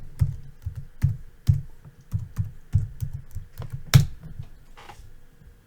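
Keys clatter on a computer keyboard as someone types in sign-in details: a quick, uneven run of close, distinct clicks with one sharper tap near the end, and no voices.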